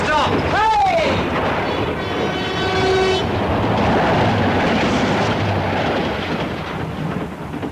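A train roars past in a radio comedy, opening with a whistle that falls in pitch as it passes, then a long, loud rushing rumble of wheels and carriages that gradually fades.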